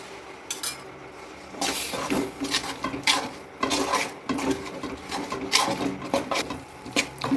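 Scraping and clinking of a spoon stirring thick urad flour roasting in a pan over a low flame, steady and close, with repeated strokes and no talking.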